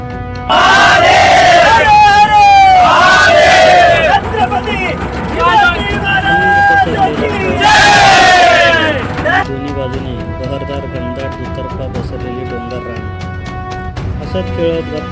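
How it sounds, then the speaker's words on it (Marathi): A crowd on a boat at the Koyna reservoir chants Shivaji's name loudly in several bursts, the shouts rising and falling while a boat engine drones underneath and continues after the chanting fades. "शिवछत्रपतींच्या नावाचा जयघोष करून प्रवासाला सुरुवात केली"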